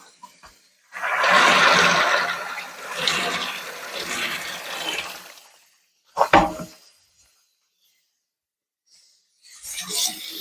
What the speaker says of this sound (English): Rinse my sifter out. Colander, I guess I should say.